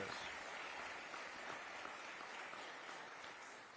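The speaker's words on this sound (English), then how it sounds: "let's give the teachers a round of applause" Audience applause for teachers at an eighth grade moving-on ceremony at a middle school, a steady wash of clapping from a crowd that holds evenly throughout and fades slightly at the end.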